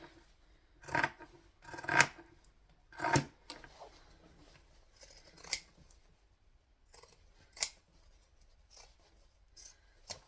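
Scissors snip through fabric in a series of crisp, close cuts, several quick snips then scattered single ones, with quiet pauses between.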